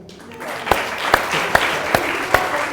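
Studio audience applauding on a Nigerian talk show, a dense wash of clapping with several sharp, regular hand claps standing out near the mic, steady and lively throughout.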